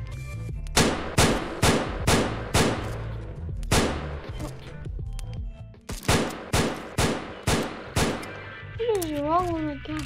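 Rapid bursts of gunfire from a Roblox Fallout-style game, sharp repeated shots in quick clusters, loud and close, with a brief warbling tone near the end.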